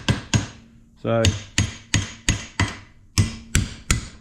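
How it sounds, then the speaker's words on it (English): A hammer taps a 1957 oval-window VW Beetle door hinge held in a vise, with about ten sharp metallic strikes in a fairly even rhythm, close and loud. A brief rattling burst sounds between them. "bit of WD-40, and we'll just tap it"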